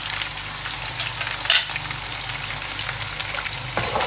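Tomatoes, green chillies and spices frying in a hot pan, a steady broad sizzle lasting throughout with a few louder crackles and pops, close and moderately loud.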